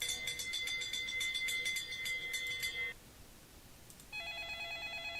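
A telephone rings during a live stream with a bright electronic warble repeating in quick bursts. It stops, there is a short pause, and then a steadier ringing tone starts again, close and fairly loud.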